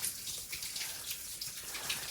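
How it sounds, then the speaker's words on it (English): Water falls and splashes inside a short slot canyon near China Ranch Date Farm, a steady hissing patter of drops and trickles, close and continuous with no voices. "I think this is the water I was hearing, because I was hearing it fall."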